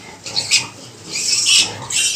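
Piglets crowding around a nursing sow squeal in loud, overlapping bursts that rise and fall, close and continuous, with grunting underneath and no talk.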